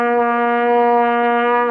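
A trumpet holds a single open note, a steady bright brass tone sustained evenly for under two seconds, close and loud, with no talking.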